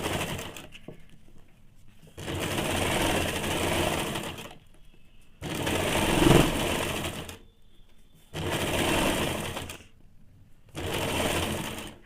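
A sewing machine stitches the folded hem of a semi salwar in bursts of a few seconds each, with short pauses between runs and a faint cooing bird in the background.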